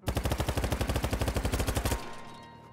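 Rapid automatic assault rifle fire in the video game BattleBit, a fast burst of about two dozen evenly spaced loud shots lasting two seconds, then cut off and leaving a fading ringing tail.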